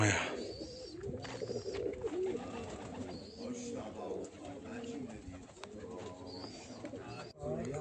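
A racing pigeon coos as it lands at a loft during a race flight, its soft cooing repeated under steady background noise and other birds, with some voices nearby.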